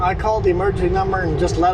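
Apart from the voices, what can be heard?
None of the usual background noises is heard.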